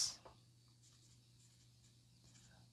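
A pen or pencil scratches across paper as chords for a keyboard lesson are written out, faint, soft strokes after a brief louder tap at the start.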